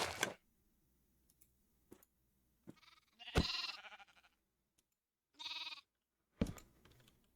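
Sheep in the Minecraft video game bleating several times in short separate bursts, with quiet gaps and soft clicks between calls.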